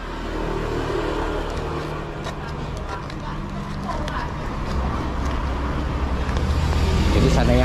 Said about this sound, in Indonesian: Di sini di pinggir jalan, jadi suara motor tuh masuk ke kamera.